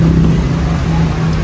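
An air-cooled 7.5 horsepower engine runs close and loud, giving a steady, unbroken motor drone with a strong low hum throughout.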